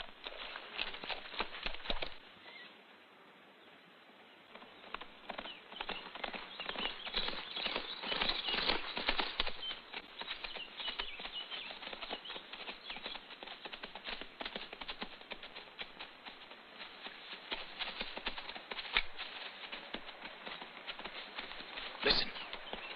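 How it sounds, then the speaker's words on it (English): Horse hooves clip-clop in a dense, continuous patter, as of several horses moving together, growing louder after a short lull and staying fairly close throughout. "Horses and men? Yes. They're nearby."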